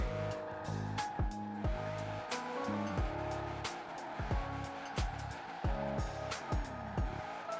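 A car in a racing game swings through a turn and nearly spins out, with a loud engine note repeatedly revving and dropping through gear changes and tires squealing in a continuous close drone.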